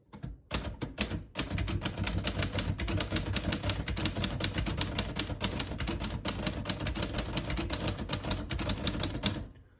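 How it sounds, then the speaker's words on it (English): Rapid, steady clacking of a 1939 Royal Arrow portable manual typewriter, dense sharp keystrokes in a continuous run lasting several seconds, close and clear. "Beautiful typing machine."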